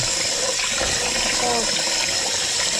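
Cold tap water runs steadily over freshly churned butter being washed in a kitchen sink, a continuous splashing rush with a brief spoken word.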